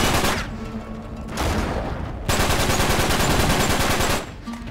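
Rapid automatic gunfire from the video game Uncharted 3 rattles in loud, dense bursts, broken by brief pauses between volleys.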